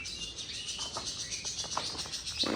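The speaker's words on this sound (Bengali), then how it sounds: "পাখির শব্দ শুনেন খালি।" Morning birdsong outside a home, with faint scattered chirps and tweets over a soft background hiss, distant and gentle.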